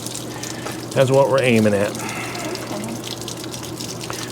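Water rushes steadily out of the tank of a 26-year-old Atwood 10-gallon RV water heater, a continuous close splashing flow heard beneath someone talking.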